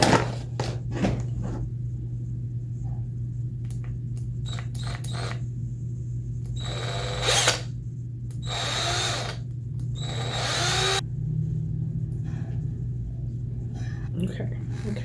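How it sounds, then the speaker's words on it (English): Power drill boring holes in balls, giving several short whirring bursts over a low, constant electrical hum, with scattered clicks and handling noises between runs. "I need a place to set the balls once I drill a hole in them."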